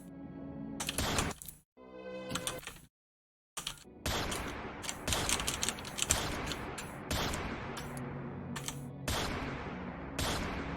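Rapid gunfire from the western shooter video game The Gunslinger, bursts of sharp shots in quick succession with a brief silent gap, loud and continuous through most of the stretch.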